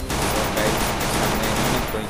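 Dense, continuous burst of gunfire from the Free Fire mobile battle royale game, loud and close, with overlapping rapid shots throughout and no talk.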